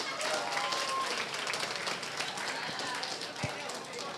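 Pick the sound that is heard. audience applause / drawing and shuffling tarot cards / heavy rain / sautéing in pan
audience applause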